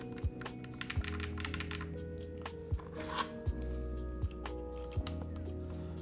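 Typing on a Castle Bravo Studio iF 75% mechanical keyboard with foam inside, giving a steady run of close, crisp clacks with heavier thocks mixed in, the keystrokes continuing without pause and no voices.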